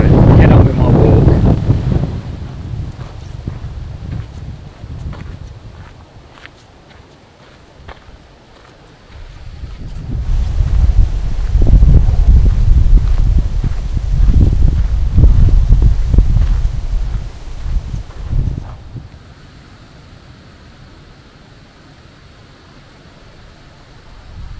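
Strong wind buffets the microphone outdoors on a fitness walk, a loud low rumble in gusts. It is heavy at the start, eases, then surges again for several seconds before dropping away.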